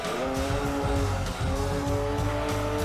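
Racing-game car in Gran Turismo 2 sliding on a loose surface, a steady whining engine drone with broad tire hiss and scrub running continuously underneath, close and loud for the whole stretch.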